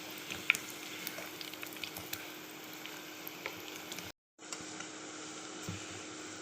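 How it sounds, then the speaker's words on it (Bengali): Cauliflower chops deep-fry in hot oil, a soft continuous bubbling hiss with faint scattered pops, briefly cut off for a moment before resuming. "এভাবে উল্টে পাল্টে লাল করে ভেজে নিতে হবে"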